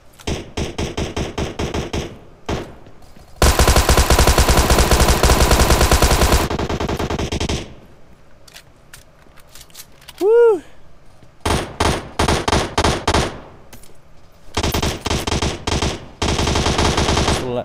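Tommy gun fire in PUBG Mobile, heard as several loud bursts of rapid automatic shots, including one long sustained burst, with other gun bursts and a rising ping in between.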